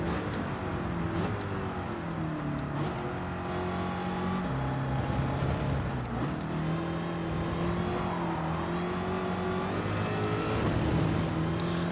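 Corvette C2 with a 327 cubic inch (about 5.4 litre) V8 in a racing video game at Le Mans, a steady loud engine drone rising and falling through gear changes, revving continuously with no talk.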